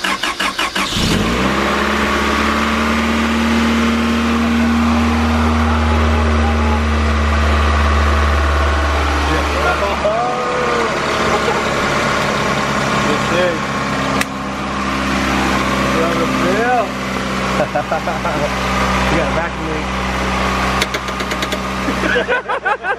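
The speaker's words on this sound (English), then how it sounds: "the first start of the engine rebuild done by Daniel" Rebuilt turbocharged Honda Integra B18B1 engine with Nippon turbo pistons and Scat rods catches on its first start, then settles into a steady, loud idle that runs continuously, with brief voices over it.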